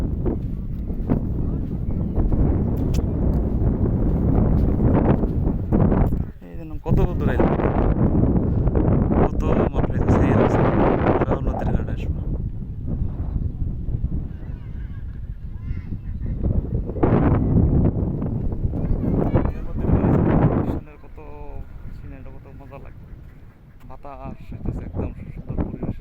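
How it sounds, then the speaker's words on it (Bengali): Wind blowing across an exposed river char, a sandbar in a Bangladeshi river, as a loud, steady rumbling roar with gusty surges and brief lulls, while people talk intermittently. "বাতাস"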